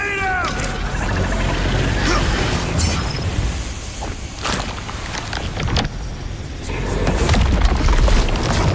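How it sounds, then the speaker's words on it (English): A grenade detonating in the Dune Awakening video game, heavy rumbling booms and crashing debris in a loud, dense game battle soundscape that swells again toward the end. "Grenade out!"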